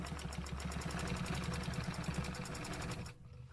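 Sewing machine stitching a line on a stencilled quilt, a fast, even, rhythmic mechanical chatter running loud and close for about three seconds before stopping abruptly.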